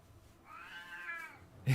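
A single drawn-out, wavering meow from an old cat, close and fairly clear, followed by a brief thump at the end.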